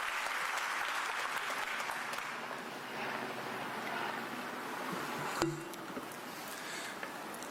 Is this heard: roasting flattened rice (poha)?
no